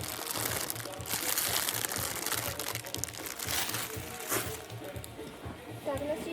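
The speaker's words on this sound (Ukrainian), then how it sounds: "далі у нас є пакет з пакетами" Plastic bags stuffed inside another bag rustle and crinkle steadily for several seconds as mixed second-hand items are handled, close and continuous with a low background hum.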